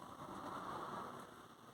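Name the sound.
rain falling while parked in a van on a country lane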